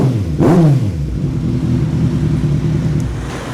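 A Kawasaki Ninja 1000 SX motorcycle with about 49,000 miles idles nearby after warming up, a quick throttle blip rising and falling early, then a steady, loud rumbling idle with no talk.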